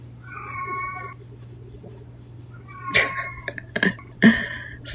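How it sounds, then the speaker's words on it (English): A house cat meows in the background, first a drawn-out call and then several shorter, sharper meows, with a steady low hum underneath and light clicks. "Y'all hear my cat back there meowing?"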